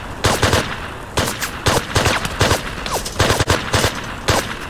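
Missile fire in the IGI-1 video game during the Missile Trainyard mission, a rapid series of loud, sharp blasts in irregular bursts with dense explosive hits, close and alone without talk.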